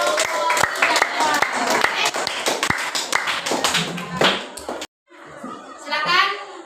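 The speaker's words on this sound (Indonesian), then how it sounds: "Kita beri aplaus dulu untuk tetap semangat untuk kelompok 3." Classroom applause for a student group: a crowd of children clapping quickly and loudly up close, with kids' voices mixed in, then a brief cut to quieter chatter.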